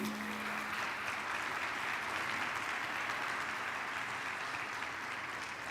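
A church congregation claps steadily and evenly, a dense wash of applause that stays level from start to finish.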